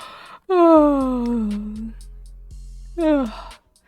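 A man's drawn-out, loud yawn with a falling, moaning pitch, a brief pause, then a second shorter yawn rising and fading, close to the listener.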